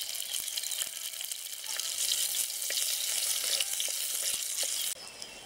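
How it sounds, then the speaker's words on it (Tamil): Dried red chillies fry in hot oil in a clay pot, a steady close crackling sizzle with scattered pops that drops slightly softer near the end. "எண்ணெய் நல்லா சூடாகிட்டு வரமிளகாய் போட்டுக்கிறேன்."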